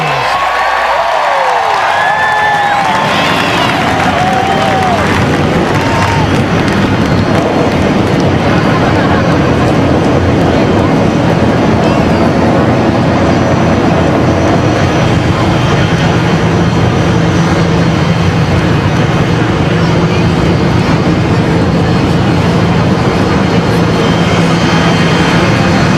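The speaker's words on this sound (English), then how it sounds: "Gentlemen, start your engines." NASCAR race car engines fire up at the 2002 Pennsylvania 500, a loud, sustained broadband roar that swells after a brief quieter opening and holds steady to the end, with crowd noise mixed in.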